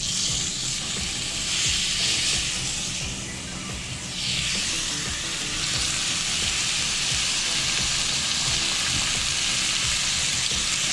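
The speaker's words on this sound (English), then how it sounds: "And I'm going to gently lay the steak." A New York strip steak sizzles loudly in a hot pan with vegetable oil, a steady dense crackle and hiss that holds close and constant throughout, with no talking.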